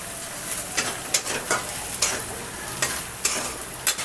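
Boiled pumpkin with chili powder and salt sizzles in a hot pan while a spoon scrapes and stirs in a steady rhythm, close and clear, without speech.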